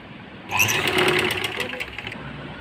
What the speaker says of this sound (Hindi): इस तरह से दोनों तरफ से मैंने ये सिलाई लगा ली है।